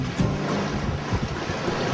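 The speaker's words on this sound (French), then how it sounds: "le vent est à force 6 et la mer par contre est assez forte. Comme on peut le voir là." Rough sea with heavy swell and force 6 wind on a sailing boat crossing the ocean, a steady loud roar of wind noise and crashing water with no speech.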